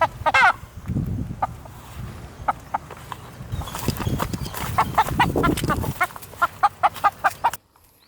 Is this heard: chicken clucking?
yes